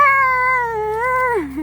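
A single drawn-out cat meow, close and clear, holding a steady tone before dropping into a short low slide at the end, with no voices over it.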